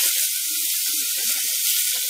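Chopped tomatoes sauté in a hot pan for pudalangai pulao, a steady close sizzle and hiss running throughout with faint stirring taps underneath.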